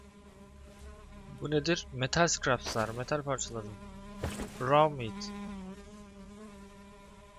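A fly buzzes steadily in the Black Faith pre-alpha video game, a thin droning whine that carries on beneath someone talking for most of the clip.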